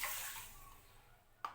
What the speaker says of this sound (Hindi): तो इसमें मैं पानी डालूंगी